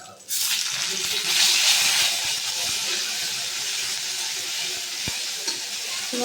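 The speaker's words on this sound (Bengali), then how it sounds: "মশলাটা দিলাম তো খুব ছিটকে দেয়" Ground spice paste hits hot oil after a five-spice tempering, bursting into a sudden loud sizzle and spatter that settles into a steady hiss, with a faint voice under it.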